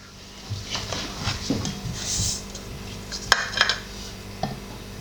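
Flour and cold water are stirred together in a bowl to remove lumps, making soft scraping and clinking sounds with a few sharper knocks, close by and fairly quiet.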